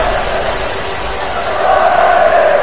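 A football stadium crowd at a Serie A match chants olé, a broad sustained roar of many voices that swells into a tonal, sung chant toward the end, heard from a distance.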